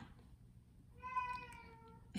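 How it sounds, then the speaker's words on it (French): A single drawn-out cat meow rises out of near silence, fairly close and plaintive, lasting about a second. "Ça, c'est mon chat qui pleure."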